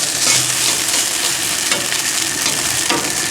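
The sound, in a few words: vegetables sizzling on outdoor grill top stir fry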